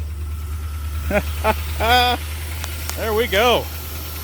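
A 1976 Newport's engine idling on its first start in eight years, a steady low hum running beneath short bursts of talking.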